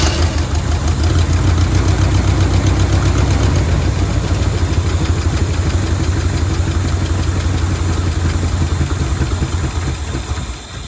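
A 1974 Chevy C20 square-body truck engine runs loud and close at a steady, slightly uneven idle with a rough, knocking pulse, easing off a little at the end with no voices.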